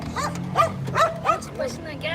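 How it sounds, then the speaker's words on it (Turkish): Several dogs bark in short, sharp bursts a few times in a row, fairly close, mixed with a person talking. "Köpekler saldırıya geçiyor."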